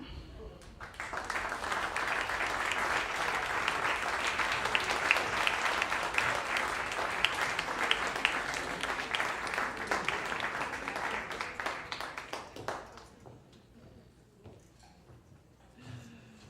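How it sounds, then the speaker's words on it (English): A crowd at an evening speaking event applauds its speakers in a long, dense, steady wash of clapping that holds for about twelve seconds before thinning to scattered claps and room murmur. "Big round of applause for George Packer and all of our other speakers tonight."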